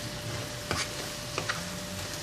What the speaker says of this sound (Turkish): Şöyle bir kere daha karıştıralım ve altını kapatalım.